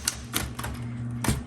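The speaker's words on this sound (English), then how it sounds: "So really good working typewriter. So this types well" A 1960s Smith Corona Coronet Automatic 12 typewriter typing a short burst of about five crisp, close keystrokes at an uneven pace, heard alone without talk.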